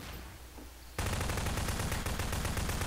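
Dense automatic gunfire in Garry's Mod, a quiet stretch giving way after about a second to a loud, sustained burst of rapid shots aimed at walls that continues unbroken to the end.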